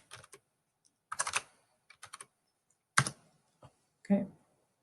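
Bursts of computer keyboard typing while entering text into a cell in Microsoft Excel 2019, short clustered clatters separated by pauses, close and fairly quiet.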